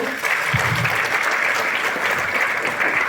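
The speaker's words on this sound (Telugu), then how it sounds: "వాళ్ళందరికీ ఒక్కసారి గట్టిగా చప్పట్లు" Audience at a business network meeting in a hotel hall claps loudly and steadily for committee members, a dense continuous applause with faint voices mixed in.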